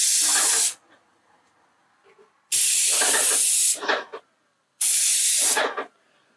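Three loud bursts of pressurized spraying, each a second or more long, separated by near silence with faint sputtering at the tail ends.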